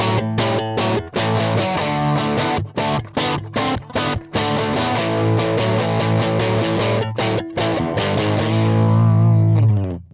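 A Stratocaster electric guitar played through a ToneX capture of a Tweed Prince amp, strumming crunchy, driven chords in a loose rhythm with short stops between them, close and loud, ending on a sustained ringing chord.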